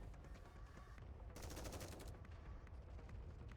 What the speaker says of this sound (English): Mass-produced Nikke has opened fire at Dorothy.